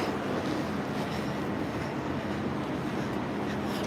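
A train at Grand Central Terminal rumbles past in a steady, fairly loud roar of wheels on rails, with faint squeals over the continuous noise and no talking.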